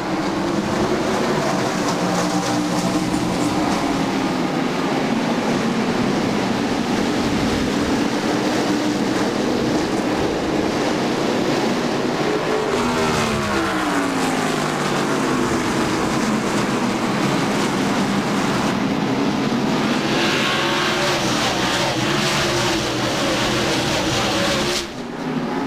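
NASCAR stock cars roaring off at the start of the 1996 Hanes 500 at Martinsville, a loud, continuous engine drone with rising and falling pitch sweeps as the pack passes, sustained throughout.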